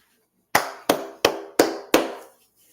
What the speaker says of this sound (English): Everybody clap it up.